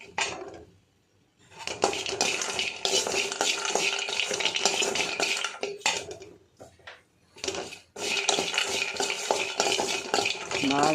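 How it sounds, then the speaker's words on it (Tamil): Almonds, cashews, figs and dry grapes are stirred and roasted in a pan, giving a busy rattling, scraping and clinking of nuts and utensil against metal. A couple of short pauses break the clatter. "இப்போ இதில் வந்து பாதாம், முந்திரி, ட்ரை கிரேப்ஸு, அத்திப்பழம்லாம் போட்டு கொஞ்சம் ரோஸ்ட் பண்ணிக்கலாம்."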